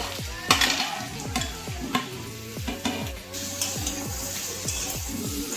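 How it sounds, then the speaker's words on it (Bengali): Lentil dumplings (bori) sizzle in a pan with mixed vegetables while a spoon scrapes and stirs in repeated strokes, metallic clinks standing out over a steady frying hiss, close by and with no talking. "এবারে বড়িগুলো দিয়ে দেব।"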